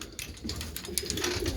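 Pigeons coo softly and steadily in a loft, several low murmuring calls overlapping close by with no talk.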